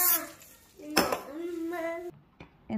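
A metal baking pan clanks and rattles as it is handled and greased while making Goan pao bread, with a few sharp clinks and scrapes and a voice in the background.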